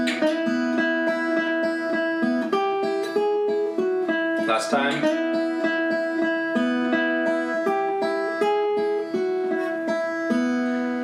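An acoustic-style guitar plays an open string lick, a slower walkthrough with each finger and the pick assigned to its own string: a steady run of picked notes ringing over open strings, with a brief spoken word partway through.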